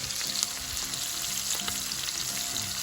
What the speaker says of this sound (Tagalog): Okay, we're gonna fry it with butter.